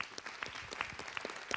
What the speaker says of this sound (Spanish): El aplauso para Pepe Blota, ¿eh?